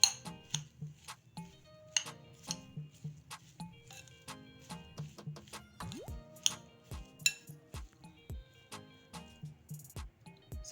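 Chopped vegetables mixed with turmeric and coriander powder in a bowl make soft, wet squishing sounds with clinks of a spoon against the bowl, in a quiet, steady irregular rhythm.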